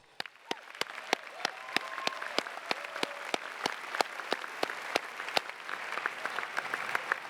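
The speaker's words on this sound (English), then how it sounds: "Let's give them a round of applause." Audience at a 2022 undergraduate graduation convocation applauds, a dense, steady patter of many hands clapping, loud and sustained for several seconds without voices over it.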